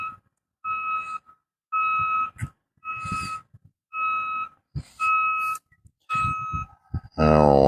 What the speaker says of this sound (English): That's the fellow with a backup alarm.